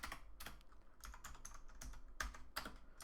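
Typing on a computer keyboard, with a steady run of light, close key clicks and a few sharper louder presses, no voices.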